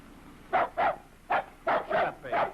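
A dog barks six times in quick, uneven bursts, fairly close and clear, in a 1939 comedy film scene.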